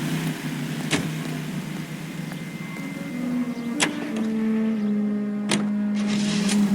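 A car driven in the video game L.A. Noire hums along with a steady engine tone that rises in pitch, with a few sharp clicks over it.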